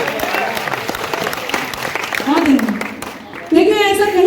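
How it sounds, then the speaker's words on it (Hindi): Audience applause at a Hindi poetry recital, a dense burst of many hands clapping under a voice speaking into a microphone, with a brief dip before the crowd and speech pick up again. "कहीं नहीं लिखा कि जो लोग खड़े हैं वो ताली नहीं बजा सकते"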